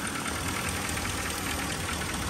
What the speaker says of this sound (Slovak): Ani nepočujete skoro, že ten motor ide.